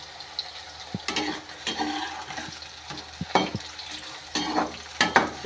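Eggplant frying in plenty of sesame oil for a spicy tamarind curry, a soft continuous sizzle punctuated by spatula scrapes and knocks against the pan as the pieces are turned.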